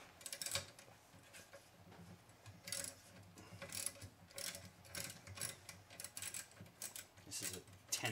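A wrench ratchets in quick clicking bursts while working on a motorcycle radiator fan, faint and close-up metallic ticking in irregular runs, with a voice speaking quietly at times.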